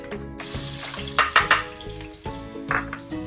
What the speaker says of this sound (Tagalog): Magigisa muna tayo dito ng bawang